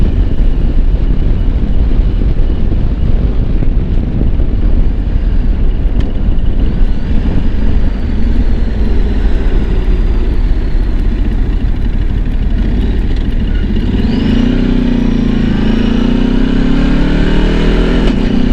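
Ducati Desert X Rally motorcycle ridden at speed, loud engine drone under heavy wind rush, with revs climbing and a rising tone near the end that suggests gear changes.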